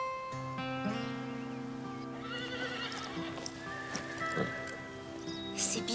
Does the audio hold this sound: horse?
yes